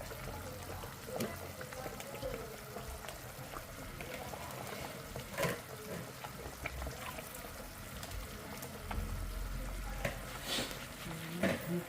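Marinated curry meat goes into hot oil in a pan at a food service kitchen in Argenteuil, giving a continuous close sizzle with stirring clatter and occasional louder scrapes. Background voices talk throughout.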